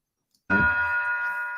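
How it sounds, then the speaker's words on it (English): Doorbell chime rings once with a sudden strike and a sustained, steady ringing tone that holds to the end, alone and fairly loud. "Man, that doorbell is serious."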